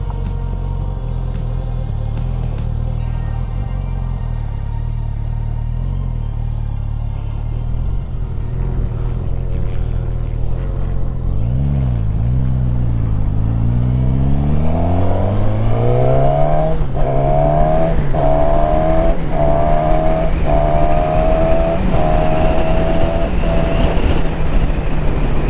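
A Suzuki Katana motorcycle engine runs loud and close, idling steadily before the revs climb and swoop in rising sweeps, then holding a high, throaty roar with repeated throttle blips.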